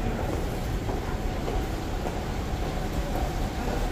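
A metro train rumbles through an underground station in Oslo, a steady, dense roar of rolling wheels and rail noise that fills the space continuously without pause.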